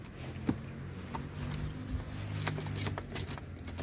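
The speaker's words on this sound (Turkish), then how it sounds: "Kontağımızı takıyoruz yerine." Car keys jangle and clink in a quick series of light metallic rattles as the ignition key is slid into a car's ignition, heard close up with no talking.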